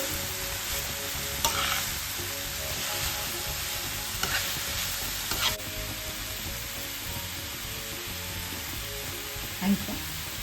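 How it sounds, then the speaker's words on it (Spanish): Chicken stirred and fried in a pan for Venezuelan arepa filling, a steady close sizzle running throughout, with occasional scrapes and clacks of the utensil against the pan. "agregamos nuestro pollo. Mezclamos todo."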